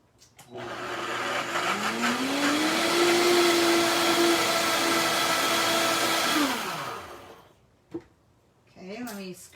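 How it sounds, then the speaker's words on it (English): Countertop blender blending cucumber dill sauce ingredients, a loud whirring roar that spins up, holds steady for several seconds, then winds down, followed by brief clatter and a voice speaking. "now I'm just going to blend these up until they're all blended"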